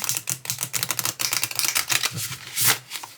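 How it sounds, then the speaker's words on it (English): Rapid papery flicking and riffling of oracle cards, larger than tarot cards, a dense run of soft crisp clicks close up, swelling into a louder burst near the end. "So let's see how they shuffle."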